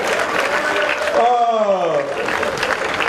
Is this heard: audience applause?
yes